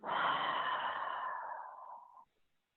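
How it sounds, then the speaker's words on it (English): A single long, steady exhale pushed out through the mouth during a guided wall yoga breathing exercise, close and breathy, fading smoothly over about two seconds before stopping. "In through the nose and out through the mouth."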